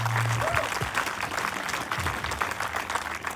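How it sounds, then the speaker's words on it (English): An audience at a town hall meeting gives a round of applause, with dense, steady clapping that holds at an even level for the whole stretch. "and round of applause,"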